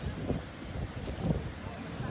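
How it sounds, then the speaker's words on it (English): Strong wind at a beach on a blustery day buffets the microphone in a continuous low rumble, loud and close, with faint gusty hiss above. "It's very windy."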